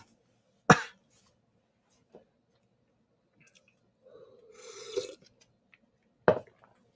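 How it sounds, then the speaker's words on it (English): A person with COVID gives two sharp, close coughs several seconds apart, with a faint throat sound and a longer rasping, muffled noise between them in an otherwise quiet room. "Elbow cough, elbow cough."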